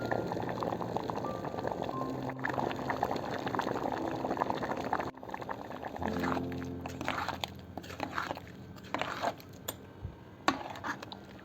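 Kerala-style green peas curry with ground coconut bubbling in a pot on a gas stove, a soft steady simmer with faint liquid pops and some kitchen clatter close by.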